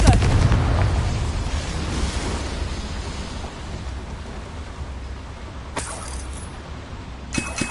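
A fire spell blast in a fantasy wizard game bursts loudly at the start, its roar decaying into a long crackling, rain-like rumble, with two sharp impacts near the end.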